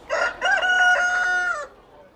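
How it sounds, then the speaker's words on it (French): A rooster crows once, loud and close, a full cock-a-doodle-doo of about a second and a half that cuts off into quiet. "Regarde le coq avec ses plumes de toutes les couleurs."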